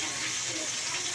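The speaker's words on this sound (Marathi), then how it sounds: "जिरं छान तडतडलं की त्यात आपण ताक घालायचं आहे।" Buttermilk poured into a pan of oil and crackling cumin makes a steady gushing, splashing liquid stream, close and continuous for a moment.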